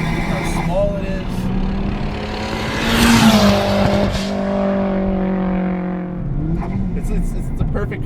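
A big-turbo Ford Fiesta ST making about 300 wheel horsepower pulls hard as a daily-driven canyon car, its engine note climbing steadily and swelling loudest midway before easing off. People talk over the steady drone.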